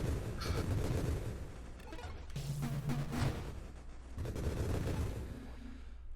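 Violet grenades explode in the video game Nova Drift, a string of rumbling, crackling blasts arriving in bursts over a low game hum, with no voices.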